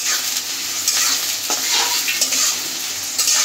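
Chopped onions with green chillies fry and sizzle steadily in a pan for a chicken lotpoti curry, with a continuous close hiss broken by a few scraping stirs of a spoon.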